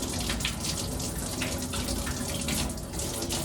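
Tap water runs steadily into a sink as toothpaste is rinsed off a mouthpiece, a continuous close splashing rush with no pauses and no voices.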